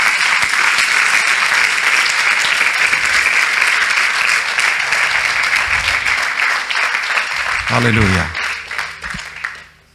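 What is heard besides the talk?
audience applause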